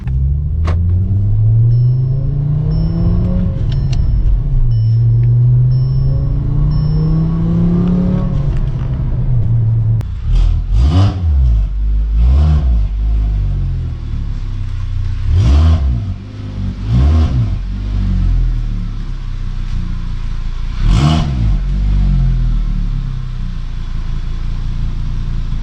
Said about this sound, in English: the car drives really good